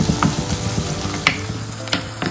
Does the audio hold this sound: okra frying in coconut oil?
yes